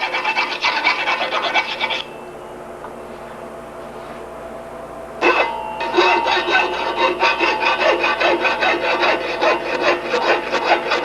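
A file rasps the burr off a steel bicycle frame tube, close up: quick repeated strokes, a few-second pause, then a longer run of fast, even strokes.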